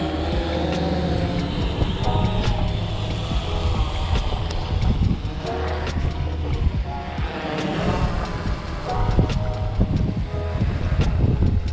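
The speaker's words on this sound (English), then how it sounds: "The wind is strong, so we're going to do nice and easily." Strong wind at a night-time shore at Shark Point, blowing in a loud, steady rush that buffets the microphone and roars continuously with no pauses, with no talking.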